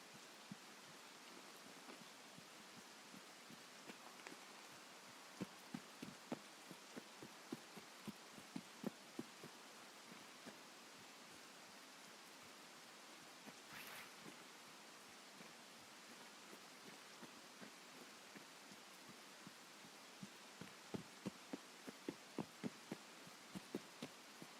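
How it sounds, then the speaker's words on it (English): Rain in a video game, a faint steady hiss with soft irregular thumps and ticks scattered throughout, quiet and continuous with no talk. "No, it's the rain's getting louder."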